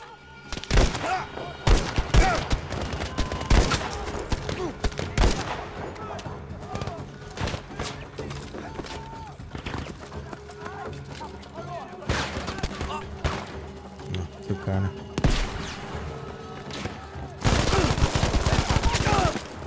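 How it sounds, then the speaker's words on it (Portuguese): Hip-fired gunfire in the Battlefield V campaign, with repeated loud bursts of automatic shots and scattered single cracks over battle noise. Someone talks over much of it. "Hipfire dessa arma aqui, pelo amor de Deus, hein?"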